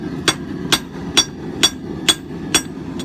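Heavy hammer blows strike a forged steel stump anvil block being flattened and squared up, seven evenly spaced ringing impacts about half a second apart, close and clear.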